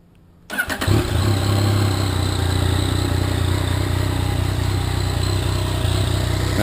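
A 2014 Yamaha FZ-09 motorcycle engine starts after a brief silence and settles into a steady, loud, close idle that runs on evenly.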